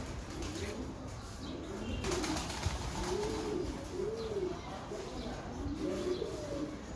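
A dark banded bulk pigeon coos in a steady series of soft, low, rounded calls, close by and fairly quiet, with faint wing flutters and a few chirps from other birds in the background.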